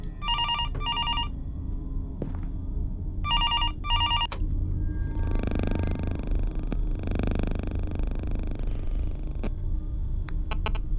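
A telephone rings in the horror video game Fears To Fathom: Norwood Hitchhike, two bursts of electronic double trills repeating, with low rumbling ambience and faint scattered clicks continuing between and after the rings.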